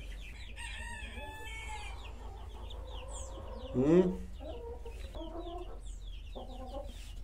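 A Sebright hen clucks softly and repeatedly, with chicks peeping throughout and a brief louder squawk partway through; a person murmurs briefly.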